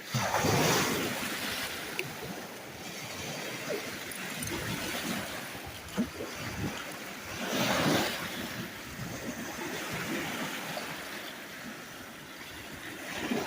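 Waves wash steadily onto the Lake Superior shore at Vermilion Point, a continuous broad surf rush with a few louder swells breaking nearby, heard alone without talk.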